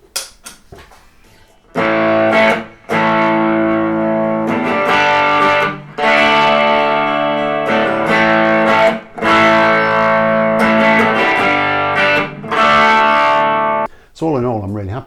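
Electric guitar from a finished custom build, played through crunch overdrive distortion: loud sustained chords and riffs in several bursts separated by brief pauses, ending with a short bent note.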